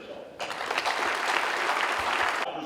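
Audience applause fills a Montgomery County Sheriff's Office promotion ceremony, a steady, dense burst of clapping that starts abruptly, holds for about two seconds, then cuts off.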